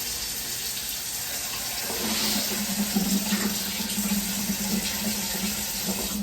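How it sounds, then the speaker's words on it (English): Hands washed under a running kitchen tap, the water stream starting partway through and then pouring steadily and close, splashing in the sink with no talking. "I'm gonna wash my hands."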